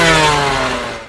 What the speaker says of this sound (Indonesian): raungan mesin 2 tak yang tak lain berasal dari knalpot Senso psikopat badut